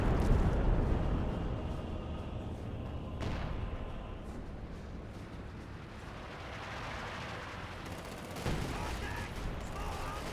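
Artillery barrage in Company of Heroes 2: a dense, continuous rumble of booms and blasts fills the whole stretch, loud at first and easing slightly, with a sharp hit near the end and a voice faintly underneath.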